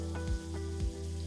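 Steak searing in a hot pan, a steady close sizzle with a few soft pops and scrapes as the golden crust forms, no voices.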